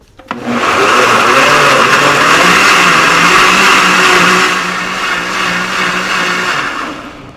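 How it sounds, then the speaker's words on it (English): A blender running on salsa, loud and close with a harsh, steady motor roar that starts abruptly and holds for several seconds, then eases to a slightly lower, steadier pitch. "let's blend it for about 3 to 4 minutes"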